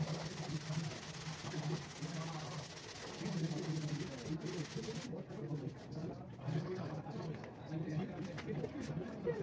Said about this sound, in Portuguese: Estou usando a lixa 80, desgastando as partes que eu passei a massa poliéster.